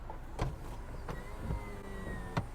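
A 2024 Mazda MX-5 facelift's automatic soft-top roof runs on its electric motor, a steady whir broken by several sharp mechanical clunks as the top folds and latches, close up with no talking.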